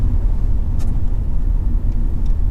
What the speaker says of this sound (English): let's see what happens if I go into 5th gear by accident